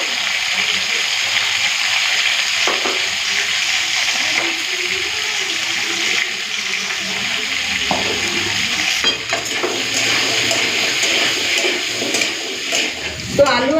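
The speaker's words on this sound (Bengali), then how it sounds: "এখন পেঁপে আর আলুটা ভেজে নেব" Papaya and potato pieces fry in a wok of hot oil with a dense, close sizzle, punctuated by stirring scrapes and clatter, while a voice talks over it.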